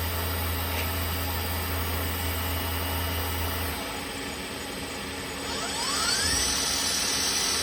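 A 2013 Tsugami B0206-II 20 mm Swiss-type CNC lathe runs its main spindle at 6,000 rpm, giving a steady high mechanical whine with a low hum. The hum stops midway, and a rising sweep and brighter hiss follow near the end.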